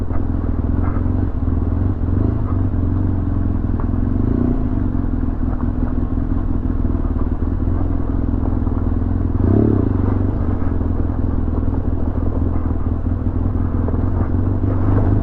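BMW motorcycle riding along a hard-packed gravel forest road, a steady loud engine drone mixed with crunching, clattering gravel under the tyres throughout, with no talk.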